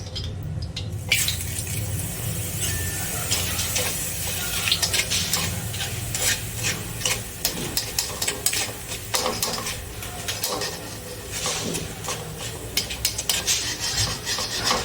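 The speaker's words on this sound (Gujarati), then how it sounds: "આ રીતે આપણે બધા જ પૌવા તળી લઈશું." Small batches of flattened rice (poha) fry in hot oil, giving a steady crackling hiss with frequent scraping and stirring rasps from a spoon against the pan, with no one speaking.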